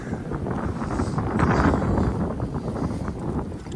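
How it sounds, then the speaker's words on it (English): Gusty wind on Moanalua Ridge Trail in Honolulu buffets the microphone with a constant rushing roar that swells and eases slightly throughout. "Definitely getting a little windy."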